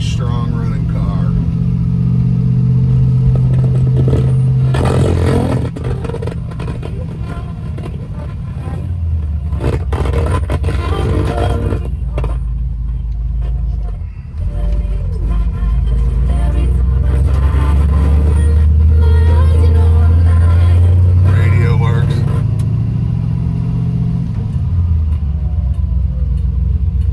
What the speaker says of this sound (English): Very strong running car.